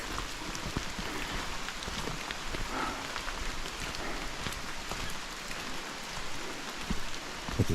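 Steady rain falls on the grounds of a Costa Rica rainforest lodge, a dense, even patter of drops on surfaces and foliage, continuous and moderately close with no talking.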